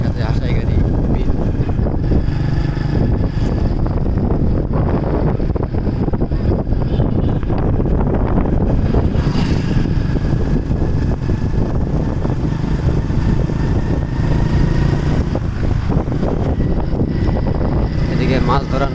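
A cold wind sweeps across Hasaigari beel, a wetland with fishing boats on the water under a cloudy sky. It buffets the microphone in a loud, continuous roar with no let-up.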